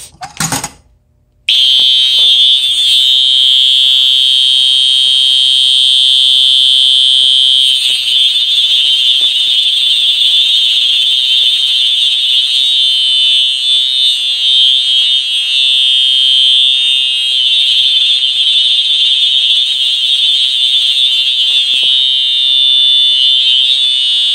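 A fire alarm system under test, with a Gamewell-rebranded FCI panel and pull station, blares loud and steady after a brief click, a continuous high electronic tone holding for the full length with no talking.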